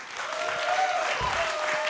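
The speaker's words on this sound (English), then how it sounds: "a warm round of applause for Cyrus" An audience applauds a guest speaker, company co-founder and CEO, in a short, dense burst of clapping that swells slightly, with a faint voice tone over it.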